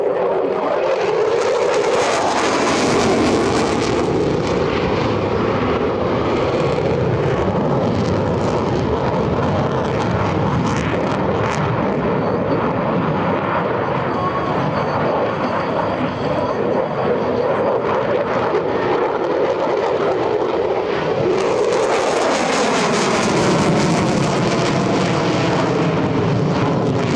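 An F-16C Fighting Falcon fighter jet flies a minimum radius turn at an EAA AirVenture air show demonstration, producing a loud, continuous engine roar that swells strongly at the start and again near the end.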